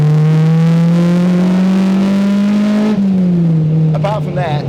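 A loud K20-swapped Honda EG Civic engine revs hard with a rising, droning tone, then drops through a gear change before climbing again. A voice speaks briefly near the end.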